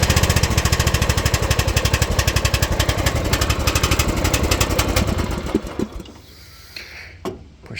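Ranch King riding mower engine starting from cold, chugging loudly and steadily at close range for several seconds before cutting out, followed by a few sparse knocks and handling noises.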